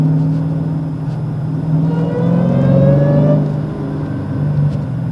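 A Dodge Challenger Hellcat with a six-speed manual gearbox accelerates hard. The steady, close engine roar rises in pitch and swells in loudness, then eases slightly near the end.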